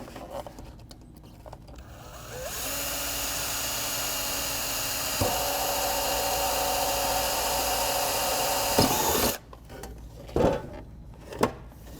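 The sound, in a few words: power drill drilling through metal gutter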